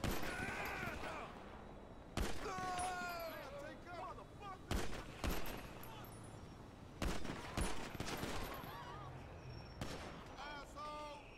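Gunfire in GTA V during a police patrol, with several loud sharp bursts scattered across the scene amid sirens and background noise while someone talks over it.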